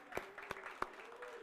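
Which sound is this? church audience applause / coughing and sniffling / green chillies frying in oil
church audience applause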